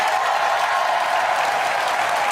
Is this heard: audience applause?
yes